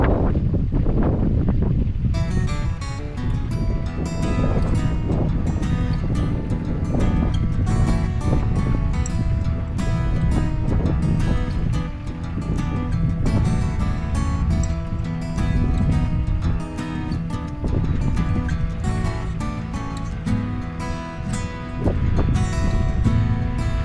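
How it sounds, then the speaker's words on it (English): A Sherpa Steed 17,000 lb truck winch on its first slow pull makes a loud, steady mechanical drone with a rough, wind-like rush that runs unbroken throughout. "Then I'm just going to do a nice slow pull and let the winch wind itself back up."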